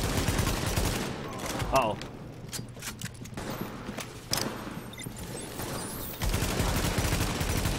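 Bursts of gunfire from The Division, a third-person shooter, crackle in irregular volleys amid street combat, with someone talking over the shots throughout.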